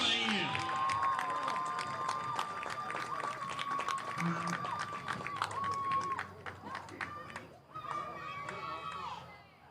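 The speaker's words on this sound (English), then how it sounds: "Let's give a big round of applause to our senior cheerleaders for all that they have done in support of UAM." At a college football game at UAM, the crowd gives a round of applause to the senior cheerleaders: sustained clapping and scattered cheers, with a tone running through much of it.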